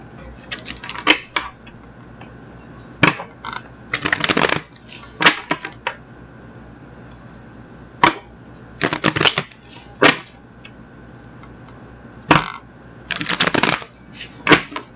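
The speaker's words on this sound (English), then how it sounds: "So I'm going to get these cards shuffled up" Tarot cards are shuffled in quick riffling bursts, close and crisp, recurring about a dozen times with short pauses between them.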